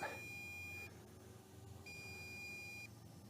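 Two long, steady high-pitched beeps about a second each from a drone's remote control, separated by a pause, over a low hum, likely a low-battery warning.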